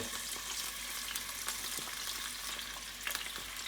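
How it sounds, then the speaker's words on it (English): Artichoke hearts sizzling in a pan with parsley and garlic beside linguine with clam sauce, a steady close frying hiss with light crackles and soft stirring taps, no voices. "I'm going to throw in the artichoke hearts here into the pan back here"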